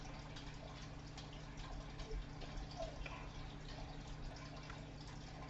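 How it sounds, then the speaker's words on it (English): Pouring a homemade fermented drink made without brown sugar or lactose into a glass: faint, soft trickling and dripping liquid over a steady low background hum, fairly quiet throughout. "Pour one out here. And try not to spill"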